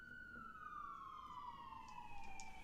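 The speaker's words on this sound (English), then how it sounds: "Apologies for the sirens on my end." An emergency vehicle siren wails steadily in the distance, its tone slowly falling, with no one speaking.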